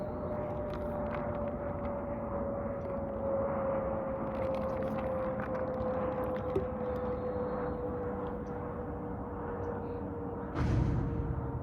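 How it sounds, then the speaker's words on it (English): An airplane passes overhead as a faint, steady, distant drone with a sustained hum, heard alone with no voices, and a brief louder rush near the end. "I was thinking to myself about this plane."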